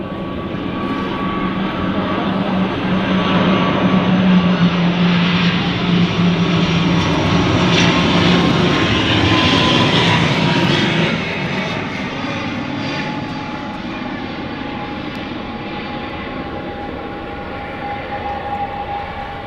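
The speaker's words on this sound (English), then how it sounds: "Eastern Airways ATR 72." An Eastern Airways ATR 72 turboprop at Manchester Airport drones loudly with a steady propeller hum that swells toward the middle and then eases to a lower, sustained roar as it moves away.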